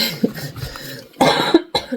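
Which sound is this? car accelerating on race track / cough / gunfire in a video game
cough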